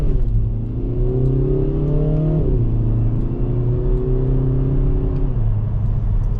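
A 2024 Kia Forte GT's turbo four-cylinder pulls hard under paddle-shifted dual-clutch gearing, engine note climbing loudly, dropping at one shift, then rising again to a second shift, with no talking.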